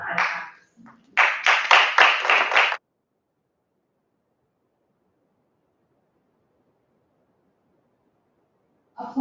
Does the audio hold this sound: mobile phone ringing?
no